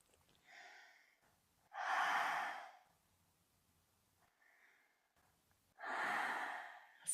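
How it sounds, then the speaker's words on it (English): Two loud, drawn-out breaths through an open mouth across the tongue in kundalini yoga pranayama, each a long airy rush lasting about a second, separated by quiet pauses with a faint softer breath between them. "As you inhale and exhale through that open mouth across the tongue."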